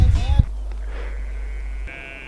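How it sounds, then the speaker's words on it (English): A sheep bleats briefly and close by at the very start, then a steady low engine drone from a Ford Escort Cosworth race car on the road home from Knockhill takes over. "Fucking sheep."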